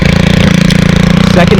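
A small garden power tool engine, such as a trimmer, hedge trimmer, chainsaw or blower, runs loud and close after a pull-cord start, holding a steady rapid putter throughout.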